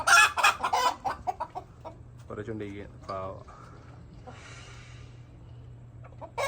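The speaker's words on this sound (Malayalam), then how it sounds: "കോഴികളൊക്കെ ഇവിടെ ഉണ്ട് അവിടെ കോഴികളെല്ലാം" Chickens clucking around a coop on a Kerala homestead, a run of close, sharp clucks and calls at the start, then scattered quieter clucks while people talk nearby.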